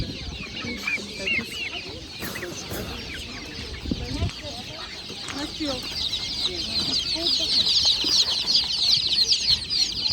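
At a market, chickens and day-old chicks keep up dense, high-pitched cheeping and clucking, close and steady, which grows louder toward the end, with a voice briefly in the mix.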